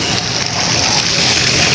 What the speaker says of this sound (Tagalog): Oh, ulan na naman.